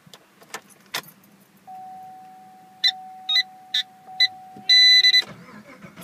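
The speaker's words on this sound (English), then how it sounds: "Escort radar detector going off." An Escort radar detector alerting inside a 2013 Chevrolet Camaro SS/RS 1LE: a steady tone joined by four short, evenly spaced beeps, then a longer, louder burst of alarm chirps. Each sound is close and clear over quiet cabin hum, with no talking.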